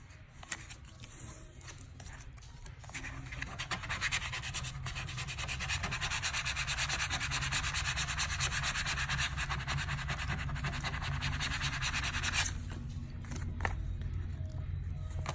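A small window decal being rubbed down by hand, a steady close scraping rub that holds for about ten seconds before easing off, quiet and with no talk.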